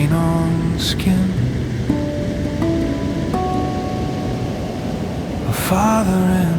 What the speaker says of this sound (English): Rain on the leaves,